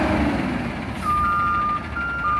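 Peterbilt 320 McNeilus front loader garbage truck backing up, a steady high reverse beep tone starting partway through over a loud, close diesel engine rumble.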